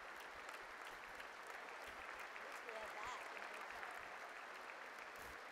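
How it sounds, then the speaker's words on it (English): Steady, distant applause fills the chamber during the President's third State of the Union address, heard faintly and evenly throughout with voices speaking over it. "they're just clapping"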